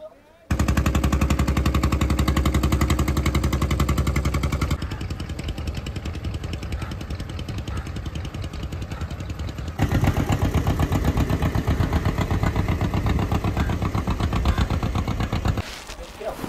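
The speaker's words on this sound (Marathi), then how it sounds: "हे बघा बोटीचा इंजिन स्टार्ट करण्यासाठी ना 2 लोक कंपल्सरी लागतात।" Fishing boat engine on a deep-sea prawn fishing trip, hand-cranked into life, chugs in a loud, steady rapid knock that shifts pace a few times and runs continuously before cutting off near the end.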